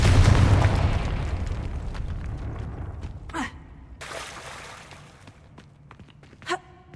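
A fiery Confringo spell blast in Hogwarts Legacy bursts loudly with a deep boom that fades into a long rumble, followed by two shorter, sharper magical bursts a few seconds apart.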